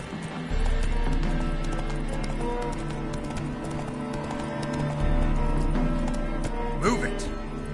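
Galloping horse in The Witcher 3, steady clip-clop hoofbeats running throughout with a brief whinny near the end, over a low droning game score, with a voice urging the horse on.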